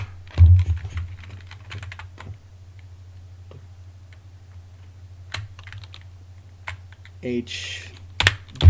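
Keystrokes on a computer keyboard while editing a config file in vim inside an Xfce terminal on EndeavourOS, sparse clicks and short bursts with gaps, close and fairly quiet, with a constant low hum underneath.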